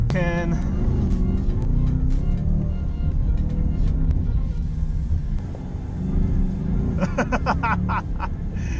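A 2022 Shelby GT Premium engine rumbles steadily in first gear, close and throaty, while people talk over it.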